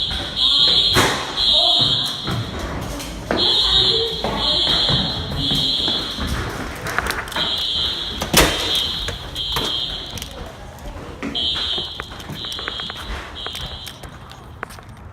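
A college dormitory fire alarm blares in repeated piercing high-pitched beeping bursts with short gaps, heard indoors over thumps, footsteps and a voice talking nearby.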